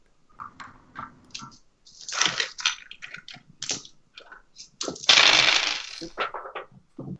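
Several dice rolling and clattering onto a table during a tabletop role-playing session, scattered clicks and rattling bursts with one louder tumble, close and without talk.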